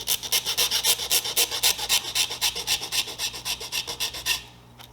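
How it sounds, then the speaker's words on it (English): A hobby file rasps back and forth across a piece of magnesium in steady, rhythmic strokes, close and clear with no talking, stopping near the end. "I'm going to try and filing it down with this file"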